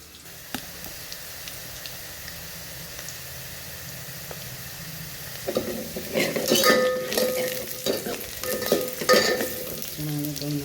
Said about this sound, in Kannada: ಈರುಳ್ಳಿ ಚೆನ್ನಾಗಿ ಬ್ರೌನ್ ಕಲರ್ ಆಗಲಿ.